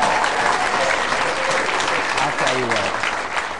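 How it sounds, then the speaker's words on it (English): A studio audience claps steadily through the whole stretch, loud and close, while a host speaks over the applause. "if we could have a big round of applause, everybody, for Christiana Khan"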